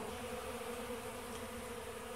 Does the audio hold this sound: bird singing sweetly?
no